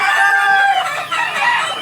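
A rooster crows once, loud and close, a drawn-out harmonic call lasting nearly two seconds, with chickens nearby.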